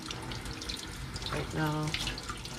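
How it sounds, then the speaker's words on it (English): A bathroom sink tap runs a slow, thin stream of water, a soft steady trickle with a brief brighter splash, while someone speaks quietly over it. "So I'm just gonna have like a slow stream here. I'm not used to this sink."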